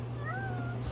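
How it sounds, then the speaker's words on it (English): Pet cats meow at close range in a home being packed up for a move, with a single drawn-out rising and falling meow over a steady low hum. "Got my cats here."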